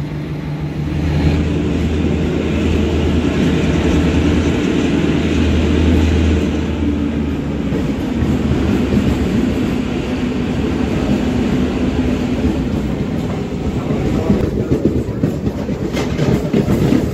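A train runs steadily on the rails on the Kinwat to Nanded line. It gives a continuous loud rumble with low clattering wheel noise and no voices.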